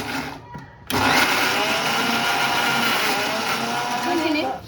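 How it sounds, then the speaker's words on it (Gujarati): A kitchen blender grinds boiled dates for a sweet chutney, starting abruptly after a brief quiet moment and then running as a loud, steady whir to the end. "ખજૂરમાં ખજૂર ગ્રાઇન્ડ કરી લીધો છે."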